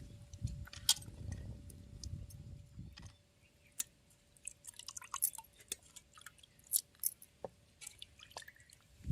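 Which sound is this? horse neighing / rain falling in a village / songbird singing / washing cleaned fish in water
washing cleaned fish in water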